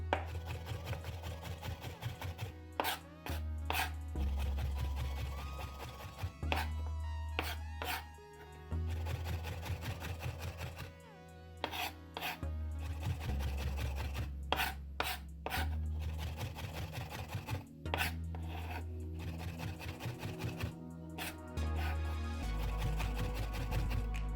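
A knife slices green olives into rounds on a cutting board, giving a steady run of quick, close chopping taps with brief pauses between strokes and a low background hum.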